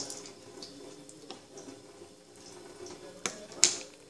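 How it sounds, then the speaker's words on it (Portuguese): A faucet runs while hands are washed in a sink during a kitchen craft session, giving a steady soft wash of water with a couple of sharp clicks and splashes near the end. "Eu vou lavar minha mão aqui rapidinho"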